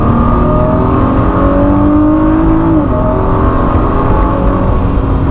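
Ford GT engine revving hard on the road in France, a loud, steady, close mechanical roar with rising whine as it accelerates, heard alone with no voices.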